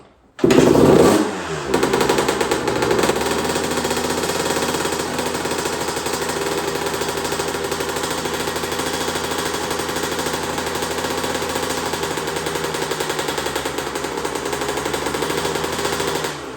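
A 2001 Honda CR125 two-stroke engine runs close and loud, a rapid buzzing rattle after a sharp start that holds steady but sputters from low fuel.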